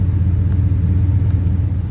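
A Ford Raptor pickup with a suspected blown head gasket idles, its engine giving a loud, close, steady low rumble with no break.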